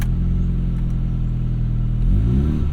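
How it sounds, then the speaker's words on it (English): A 2022 Mini John Cooper Works Convertible engine turns over and settles into a loud, close idle, then rises in a quick rev before easing back. "So definitely a little bit of a sportier noise there from this John Cooper Works."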